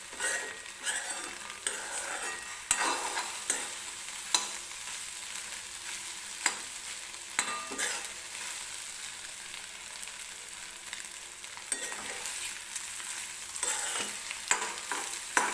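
Egg curry ingredients fry in a kadhai while a spoon stirs and scrapes them, a steady sizzle broken by repeated metallic scrapes and clinks at close range.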